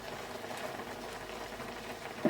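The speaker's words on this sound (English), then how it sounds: "You can see how much it's boiling now that it's on high." Chicken and bacon creamy pasta sauce boils hard on high heat, a steady bubbling, popping simmer close up with soft irregular pops and a brief sharper sputter at the end, no voices.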